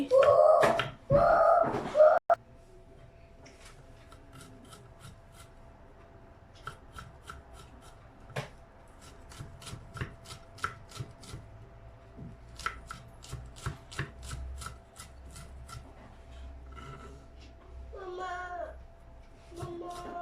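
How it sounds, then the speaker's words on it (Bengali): A knife chops garlic on a board in brisk bursts of sharp, dry taps, some spaced and some rapid, fairly close. Brief voice-like sounds occur at the very start and near the end. "প্রথমে আমি রসুনটা কেটে নিচ্ছি।"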